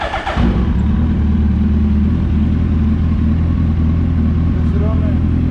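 A first-generation Suzuki Hayabusa motorcycle engine, fresh from a fuel pump change, fires up almost at once and holds a steady, deep, loud idle close by for several seconds.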